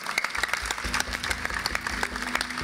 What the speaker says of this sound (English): Can we have applause, please?